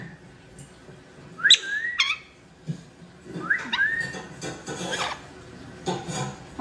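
A pet bird gives a few sharp chirps and whistled calls in bursts, close and clear over a quiet room with faint rustling.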